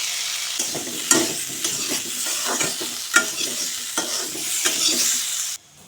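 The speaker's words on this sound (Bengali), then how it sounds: "এখন আলু বেজে নিচ্ছি সামান্য হলুদ গুঁড়া আর সামান্য নুন দিয়ে" Close, steady oil sizzle of potatoes frying with turmeric and salt, with repeated scrapes and clinks of a spatula stirring the pan, no voices.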